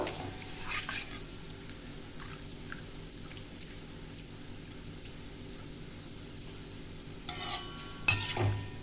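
Shredded potatoes fry in oil with a faint, steady sizzle. A few soft stirring scrapes come near the end. The sound is quiet and close, with no speech.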